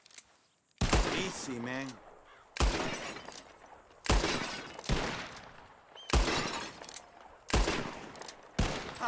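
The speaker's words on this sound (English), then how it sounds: "Whoever shoots more of these bottles wins" Repeated loud gunshots from a bottle-shooting contest in Red Dead Redemption 2, five sharp cracks spaced about two seconds apart with glass shattering after them, while someone speaks briefly near the start.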